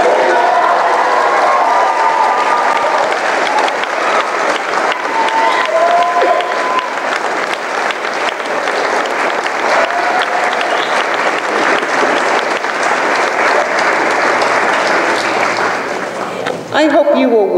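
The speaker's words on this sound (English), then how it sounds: "You can do it by applauding if you need." A large commencement audience standing to applaud their professors, sustained loud clapping with scattered cheers that carries on steadily for many seconds, with voices mixed into the crowd noise.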